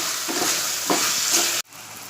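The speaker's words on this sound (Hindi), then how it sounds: "अब हम इसमें बटाटे डालेंगे कटे हुए और उसे भी थोड़ा तेल में भूनेंगे।" Chopped potatoes fry in oil with a loud, dense hiss close by, a few soft stirring scrapes riding on it before the sizzle drops abruptly and continues more faintly.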